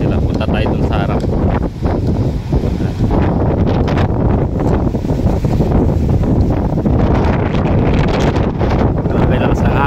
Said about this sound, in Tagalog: Grabe lakas ng hangin dito. Sobrang lakas.